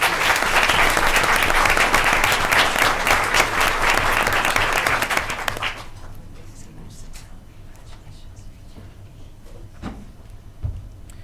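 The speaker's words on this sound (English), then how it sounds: "have another round of applause for these guys." Applause from the audience at a school board of education meeting honoring students, a loud sustained round that stops abruptly midway, leaving a quieter room with scattered knocks and faint shuffling.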